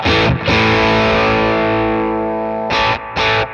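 An electric guitar through an overdrive pedal in the effects loop of a Sonicake Matribox II Pro plays a loud, sustained distorted chord that rings out, followed by two short choppy stabs.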